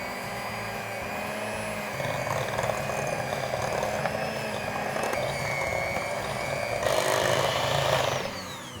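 Electric hand mixer beating cream cheese with sugar and vanilla for a fruit tart filling, a steady close whirring drone that holds for several seconds and grows slightly louder near the end before stopping.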